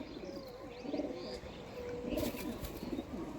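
An active male pigeon coos softly in short low bursts, faint and a little distant, over a steady background hiss.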